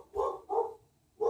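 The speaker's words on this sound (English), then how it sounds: "Please excuse the dogs that you hear in the background" Dogs bark in the background indoors, two quick muffled barks followed by a third after a short pause, moderately faint.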